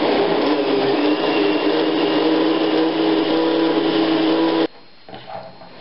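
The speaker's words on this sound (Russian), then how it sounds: "Сейчас я все запущу в блендер." Kitchen blender whirring steadily at high speed while blending potato pancake batter of potatoes and eggs, a loud continuous motor drone that cuts off abruptly near the end, followed by faint clatter.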